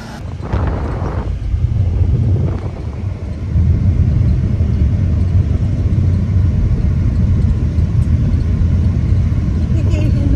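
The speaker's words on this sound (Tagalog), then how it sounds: "Yan, pinapainit ko muna yung kotse." A car engine idles and warms up in a parking lot, a steady low rumble with wind buffeting the microphone, loud and continuous, with a brief voice near the start.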